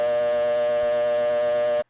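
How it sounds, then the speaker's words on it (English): An old city dial tone from a step-by-step telephone switching system, a 600 Hz tone amplitude modulated by 120 Hz. It sounds as a steady, buzzy hum that holds for nearly two seconds and then cuts off abruptly. "This model outputs a 600 cycles per second tone, which is amplitude modulated by a 120 cycles per second signal"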